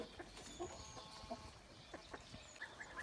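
Hens cluck softly in short scattered calls over a faint, busy farmyard background.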